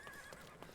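A horse whinnies in a Sherlock Holmes video game, one short, clear neigh with a wavering high tone, close by and alone, with faint hoof clatter underneath.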